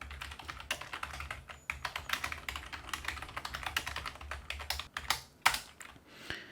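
Rapid typing on a computer keyboard fills the clip with dense, close clicking and a few louder single key presses near the end, with no voices.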